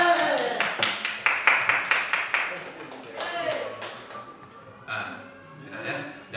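A small group in a school session claps in quick uneven bursts, fairly near and moderately loud, then the clapping thins into a few scattered claps with some voices.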